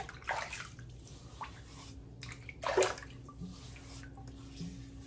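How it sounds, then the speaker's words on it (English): Water splashes as pre-shave oil is rinsed from a face at a basin, with a few soft, close splashes and drips in short bursts, the loudest near the middle. "And then we're going to rinse it off."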